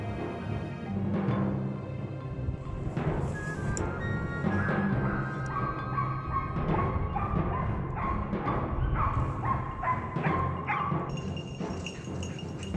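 A hunting dog on a driven boar and roe deer hunt barks and yips repeatedly in the woods, with whimpering calls in between. The barking is irregular, moderately loud and carries across a noisy outdoor background.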